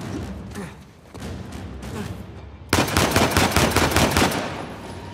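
Gunfire in Uncharted 4: A Thief's End starts as softer, distant shots and then breaks into loud, rapid automatic bursts that rattle on steadily to the end.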